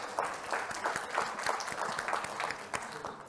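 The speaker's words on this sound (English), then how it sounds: "Another round of applause," An audience at a panel event on hate crimes in Canada claps for a panelist, producing a steady, moderately loud patter of many hands that lasts throughout.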